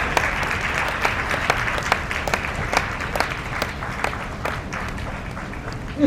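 An audience at a Vedic school consecration festival applauds to honour Om Prakash, a steady wash of many hands clapping with a few sharper individual claps standing out, continuing for several seconds.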